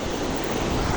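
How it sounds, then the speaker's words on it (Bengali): A big ocean wave breaks and washes over a rocky shore, a broad, steady roar of surf with wind noise on the microphone. "একটা বিশাল বড় ঢেউ আসছে"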